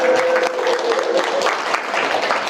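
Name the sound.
audience applause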